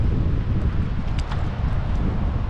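Steady wind buffets a microphone outdoors on the water from a fishing boat during a bass tournament, a loud continuous low rumble with gusty rustling and no speech.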